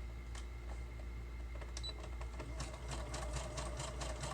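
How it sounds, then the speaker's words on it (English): A sewing machine stitching through thin paper while starting a pieced paper roll, a faint steady mechanical hum with a rapid light rhythmic clatter near the end. "It's kind of thin, so I have to hold it in place while I'm sewing it."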